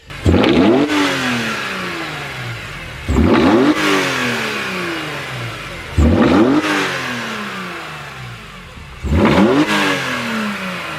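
A car engine with a Carbonious CSL carbon fiber intake revs hard four times in a row, each burst roaring up then falling away with a deep, throaty intake growl, loud and close.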